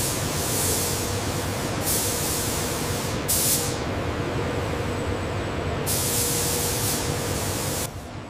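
Paint spraying in a HIMARS rocket system factory, a continuous loud hiss of spray coating that holds steady for about eight seconds, with brief brighter bursts and a low mechanical rumble underneath.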